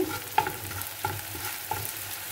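Black cumin seeds, kalonji, fry in a pan with a light sizzle under regular scraping strokes of a spoon, about one every half second, close and moderately loud.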